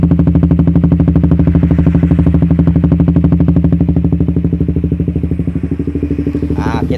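A Suzuki Satria FU motorcycle engine idling after its intake camshaft was advanced about 1 mm, giving a steady, loud, close rhythmic putter with a clattery edge that continues unbroken throughout.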